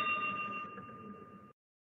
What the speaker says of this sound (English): Galvo deflects, NR relay picks up and bell sounds.